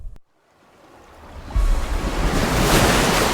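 Stormy ocean waves and strong wind rise from near silence into a loud, sustained roar of surf and gusts that keeps building and continues without a break.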